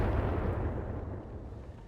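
Mech weapons firing in the RogueTech BattleTech game, a Centurion shooting at a Mongoose's rear arc: a loud, dense burst of booming fire that rumbles and slowly fades over two seconds, with no talk.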